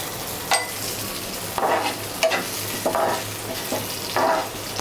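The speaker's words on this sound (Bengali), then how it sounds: "এখন আমি পেঁয়াজ রসুনের সাথে একত্রে ভেজে নিব" Washed dried shrimp fry with onion and garlic in a pan. A continuous sizzle is broken by several distinct scraping stirs at a loose, regular rhythm.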